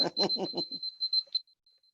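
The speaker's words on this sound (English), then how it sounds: "that's my alarm going off." An alarm beeps in a rapid pulsing series of high tones, first under a voice talking and then alone as the beeps taper off, during a spiritual retreat talk.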